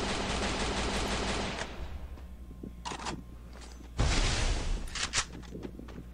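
Gunfire in the Free Fire battle royale game: bursts of rapid automatic shots up front, then scattered single cracks and a loud close burst later, heard alone with no talking.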